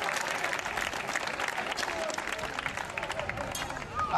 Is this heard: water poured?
no